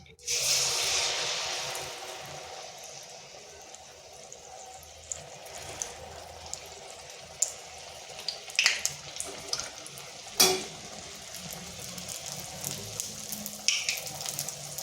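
Flour batter for spicy poa pitha goes into hot oil: a loud hissing sizzle bursts up at first, then settles into a steadier, quieter frying crackle with scattered close pops.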